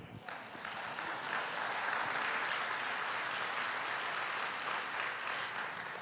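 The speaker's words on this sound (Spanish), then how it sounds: "Dale un aplauso a Dios." A church congregation breaks into applause, a full wash of clapping that swells quickly and holds steady for several seconds, with voices murmuring beneath.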